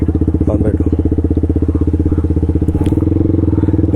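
A motorcycle engine throbs loud and close with a fast, even pulsing beat that shifts slightly in pitch as it pulls away, with a faint voice underneath.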